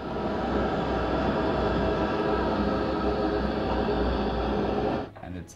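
A layered creature effect built for bats in the game Alan Wake: a dense, continuous rumbling roar with fluttering texture, loud and steady for about five seconds before cutting off abruptly.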